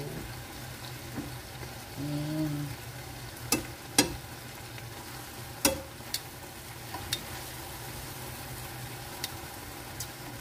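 Food in sauce fries in a pan, with a soft continuous sizzle, a brief scraping stir early on, and several sharp clicks and taps of a utensil against the pan scattered throughout, all fairly quiet.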